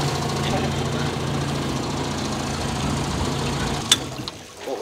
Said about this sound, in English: The motor just stalled